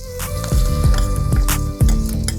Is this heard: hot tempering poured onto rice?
yes